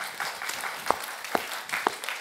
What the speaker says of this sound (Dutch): Daar mag wel een applaus voor,